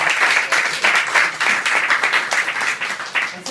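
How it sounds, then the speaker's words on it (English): A party crowd applauds an honoured guest at a celebration hall, brisk close clapping in uneven surges that runs throughout. "can we have a round of applause for Sergeant first of all?"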